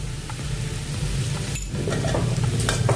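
Spiced wheat flour and fenugreek leaf mixture stirred in a bowl, soft scraping and rustling strokes with a faint sizzle-like hiss that grows slightly louder, no voices.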